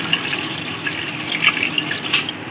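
Water runs steadily from a tap into a cooking pot holding mutton paya (goat trotters) for a Bakra Eid stew, a continuous close splashing pour with faint bubbly gurgles and no talking.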